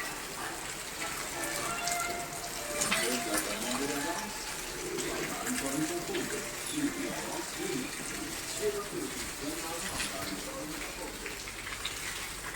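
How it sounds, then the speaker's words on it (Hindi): Heavy rain pours down steadily during a storm with strong wind, floodwater gathering outside a house, a dense continuous wash of splashing water heard at moderate distance with no clear talk over it. "बहुत तेज़ बारिश आ रही है, और तेज़ होती जा रही है।"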